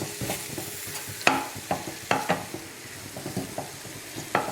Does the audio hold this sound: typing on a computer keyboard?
no